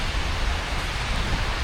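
Light rain falls outdoors in Almaty, Kazakhstan, a steady, dense hiss of patter filling the air without break, close and moderately loud, with no voices.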